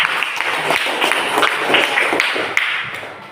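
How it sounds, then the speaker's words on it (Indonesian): Students clapping together in a classroom at the end of a lesson, a loud, somewhat uneven burst of hand claps with occasional taps and thuds, close and continuous. "Tepuk tangan semua dulu."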